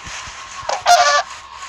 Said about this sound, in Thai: ไก่ครับไก่หาของกินครับ